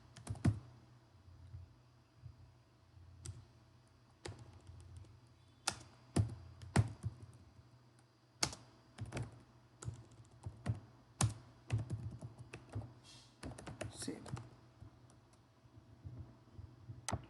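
Computer keyboard tapped while writing website code, irregular bursts of sharp clicks and keystrokes with short pauses between, close and fairly quiet.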